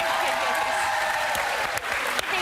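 Studio audience on a daytime talk show clapping, a dense, bright wash of applause sustained for a couple of seconds at moderate level, with a few sharper claps standing out near the end.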